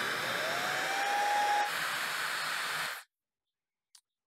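A Laifen Swift hair dryer blows with no nozzle attached, a loud, close, steady rushing hiss with a rising whine, cutting off abruptly after about three seconds, then a brief faint click.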